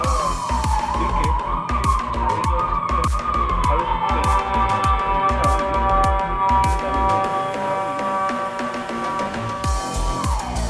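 An ambulance siren wails loud and echoing inside a tunnel, with rapid rising-falling yelps giving way to a long steady tone, over a dashcam car's road noise and sharp clicking sounds.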